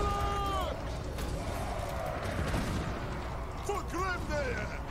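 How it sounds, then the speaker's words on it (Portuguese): Cannons firing in the strategy battle game Total War: Warhammer II, a dwarf army's artillery booming under a dense, continuous battlefield din with whistling projectile sweeps and scattered bangs. "Canhões."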